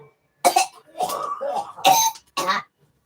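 A man coughing and clearing his throat close up, four separate rough bursts spread over a few seconds with short pauses between them and no talk.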